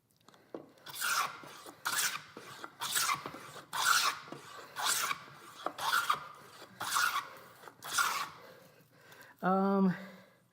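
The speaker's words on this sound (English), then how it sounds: "what I'm planing is kind of like in line with these lines that I made" Hand plane shaving wood while shaping a stick chair part, a series of about eight rhythmic rasping strokes at a steady pace, close and fairly loud, followed by a brief spoken word at the end.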